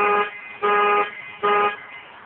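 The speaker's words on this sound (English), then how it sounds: "Okay, it sounds the alarm." A 2007 Toyota Camry LE alarm sounds as the locks are worked: three loud, steady electronic horn-like blasts with short gaps between them, with no voices.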